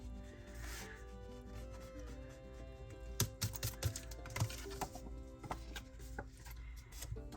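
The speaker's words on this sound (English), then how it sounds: "And then I'm going to erase." Pencil marks being erased from paper while making a junk journal pocket, with quick, close scrubbing rubs in irregular bursts over a faint background hum.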